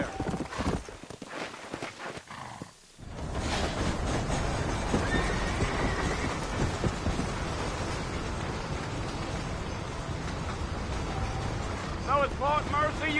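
A horse in the video game Red Dead Redemption neighs and its hooves clip-clop along at a steady pace, while characters talk over the riding.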